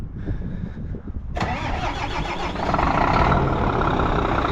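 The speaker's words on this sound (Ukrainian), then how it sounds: "Тату заводить вольвака. Послухаємо, як заводиться." A Volvo diesel truck engine cranks briefly, then catches and roars to life, settling into a loud, steady idle close by.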